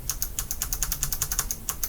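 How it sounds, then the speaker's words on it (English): Kailh low-profile mechanical switches on a Havit HV-KB395L keyboard being pressed in quick succession, a rapid run of crisp, light clicks close to the microphone. "Let's feel these switches now, because this is the reason that you're buying this keyboard."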